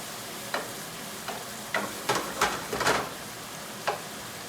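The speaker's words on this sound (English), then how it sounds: "You can nicely see how the green fat from the bacon, the lardon, releases its fat into the pan." Bacon lardons and Brussels sprouts cook in a pan, a faint sizzle beneath several sharp stirring scrapes and clacks spaced irregularly, clustered near the middle.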